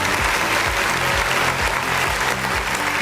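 A crowd applauding steadily, dense clapping that stays loud and even throughout with no pauses.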